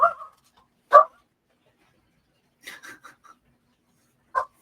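Dogs bark in separate bursts: a couple of short close barks near the start, a scattered volley of quicker yips in the middle, and one final bark at the end, with silence between them.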